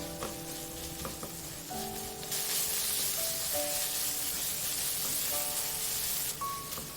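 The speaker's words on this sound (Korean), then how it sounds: "다진 마늘, 대파를 넣고 중불로 1분 볶고" Minced garlic and green onion stir-fry over medium heat in a pan with pork for sundubu-jjigae, a steady loud sizzle that swells partway through, with soft background tones underneath.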